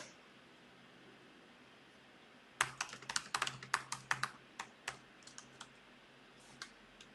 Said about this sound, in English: I'm going to type them another note there.